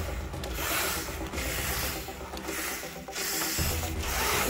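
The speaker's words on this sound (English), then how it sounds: "whenever I turn the wheels, look how loud that sounds" Small plastic wheels and steering gears of a 1/10-scale Aston Martin RC car whir and ratchet in quick bursts, a gritty mechanical grinding that rises and falls close by.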